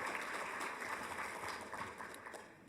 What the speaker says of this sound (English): Yes, clap for my children.